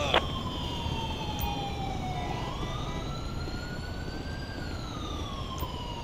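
An ambulance siren in Grand Theft Auto 5 wails steadily with slow rising and falling sweeps, heard from a middle distance over a constant background hum.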